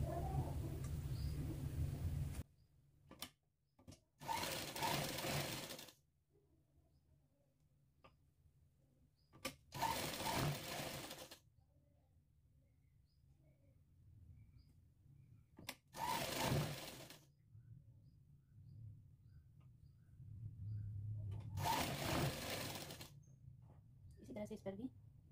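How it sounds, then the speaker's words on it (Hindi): A sewing machine stitches a folded 4-inch square of fabric for a home-made latkan tassel, running in several short loud bursts separated by pauses, with a voice talking between runs. "अब देखिए इसको इस तरह से मुड़कर पहले सिलाई लगा लेना है।"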